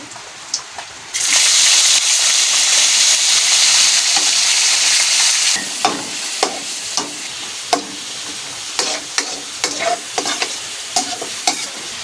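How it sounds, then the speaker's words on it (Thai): Pork belly stir-frying in a pan to render its fat for a holy basil stir-fry, a loud close hiss of sizzling meat that eases into repeated scraping stirs and crackles. "คั่วหมูให้มันแดงซะก่อนเพื่อเอาน้ำมันออก"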